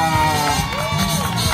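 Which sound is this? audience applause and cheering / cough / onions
audience applause and cheering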